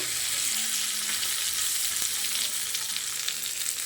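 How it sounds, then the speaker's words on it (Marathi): Hot curry-leaf tempering poured onto coconut chutney for idli, crackling and sizzling in a steady dense hiss with small pops, close and fairly loud throughout, with no voices. "ही फोडणी आपल्याला आता चटणीवरती ओतायचे"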